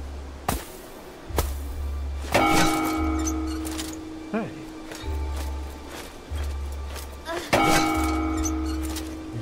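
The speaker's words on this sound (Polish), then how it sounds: "Chyba powinienem też użyć drugiego gongu." A gong is struck twice in the video game Song of Nunu, each hit ringing out loud and metallic with a long shimmering decay, over a low steady background rumble.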